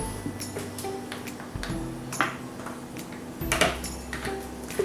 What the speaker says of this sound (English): Scrape everything out of the big bowl.